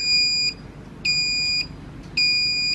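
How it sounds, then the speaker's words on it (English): Home security alarm control panel giving three sharp, loud electronic beeps in an even on-off pattern, each lasting about half a second, with quiet room tone between them. "remote control the home alarm control panel"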